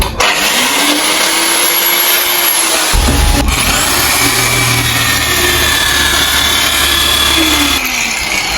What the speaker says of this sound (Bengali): এরকম সার্কুলার মেশিনটা চালু আছে